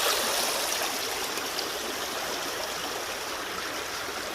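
A narrow creek in West Virginia drops over big heavy rocks, a steady, full rushing and splashing of water that fills the scene, close and continuous with no other sounds.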